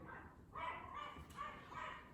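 Several dogs bark repeatedly outdoors in a steady run of loud, overlapping yips and woofs, with no talking.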